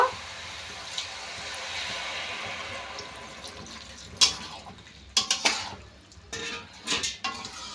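Water is poured into a pan of niramish cabbage ghonto with chickpeas, a soft running splash followed by several sharp clinks of a utensil against the pan, no talking.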